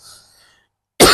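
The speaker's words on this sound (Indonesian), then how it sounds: "Sorry, ada batuk." A single sharp cough bursts in at the end after near silence, close and loud.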